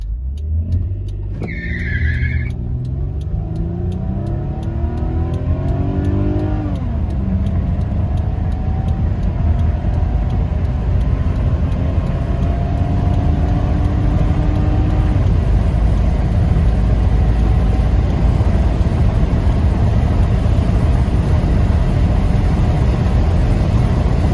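A 2000 Lexus ES300 with 201,000 miles accelerates hard from a standstill to 100 mph, its engine climbing through several rising gear pulls after a brief tire chirp, then settling into a loud, steady roar of wind and road noise.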